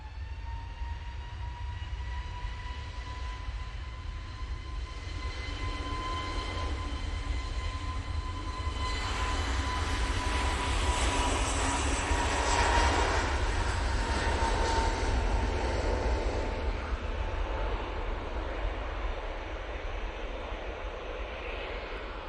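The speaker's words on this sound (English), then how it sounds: "Jet 2, A321 Neo, going off to Malaga now, lined up, ready to go." A Jet2 Airbus A321neo lines up and takes off from Manchester for Malaga, its engine roar building into a louder mid-clip swell with a whining tone, then easing as it departs, fairly distant.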